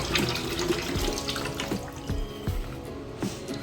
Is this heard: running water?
yes